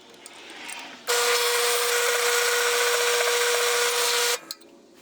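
Power drill running steadily as it bores a hole for a flag mount on a Sur Ron Light Bee electric dirt bike, one continuous high-pitched whine of about three seconds, loud and close, with no talking over it.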